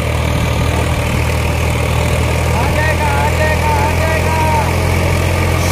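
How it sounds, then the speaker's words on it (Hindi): A Mahindra Arjun Novo 605 tractor working at full power on a steep climb, its diesel engine giving a steady, loud, close rumble with a low throb, while people talk over it. "ट्रैक्टर ने खूब पावर लगाया दोस्तों, फुल पावर लगाया।"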